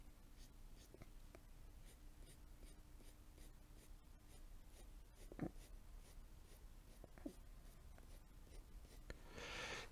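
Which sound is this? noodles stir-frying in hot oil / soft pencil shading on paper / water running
soft pencil shading on paper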